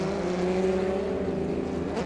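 Race car engine on track during a VW Polo Supa Cup round, a steady loud droning note with revs easing off and falling, held close throughout with no voices.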